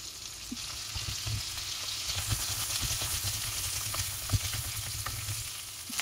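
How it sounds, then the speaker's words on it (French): Vegetables sauté gently in a pan, a steady close sizzle with small crackles and pops throughout, no talking. "on va faire revenir tranquillement nos légumes"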